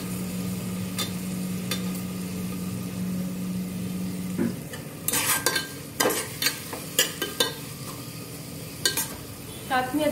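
Onion sizzles in a pan before chopped tomatoes go in, followed by sharp clatters and scraping as the mix is stirred. A low steady hum runs under the first half, and faint talk is present.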